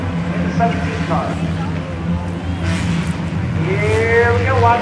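Race car engines roar at a South Bend speedway during a Hornet Little Gambler A-Feature, loud and close with revving that rises and falls as cars pass, under people talking.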